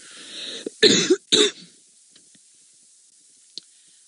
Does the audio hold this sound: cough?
yes